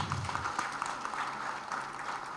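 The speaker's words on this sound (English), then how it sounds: "I think they deserve a very loud round of applause." An audience at a women's forum summit in Hyderabad applauds young girls after their dance. Dense, even clapping fills the hall at moderate distance for a couple of seconds.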